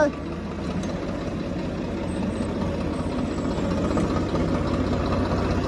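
Tractor engine idling, a steady low rumbling drone with a fine rapid pulse, holding even and fairly close from start to finish.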